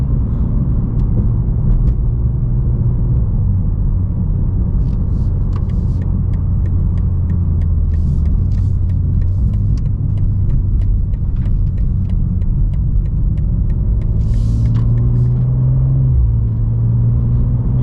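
Loud, steady rumble of a 2024 BMW M2 engine and exhaust while driving, with sharp crackles and pops on shifts, heard from inside the cabin.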